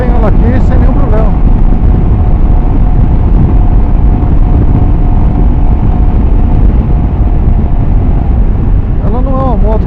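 A Royal Enfield Himalayan motorcycle cruises at about 120 km/h, a loud constant engine drone and heavy wind roar buffeting the microphone, with a rider speaking over it.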